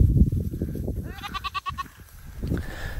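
A young goat on a Kansas farm in hot weather gives a single wavering, quavering bleat in the middle, close and clear, with rustling and low background noise before and after.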